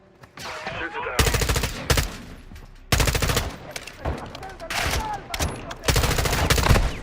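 Automatic gunfire in Call of Duty: Modern Warfare II, loud close bursts of rapid shots that cut in and out with short gaps, some bursts running over a second, with voices heard under the firing.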